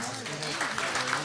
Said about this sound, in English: let's give a round of applause to the aldermen that are here